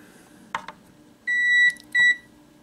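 A multimeter on continuity test beeps while a capacitor charges up during a short-circuit check: two sustained electronic tones, each roughly half a second long, follow a brief clatter, with no speech.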